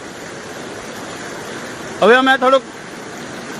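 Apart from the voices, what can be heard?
torrential flood water current from Ojat river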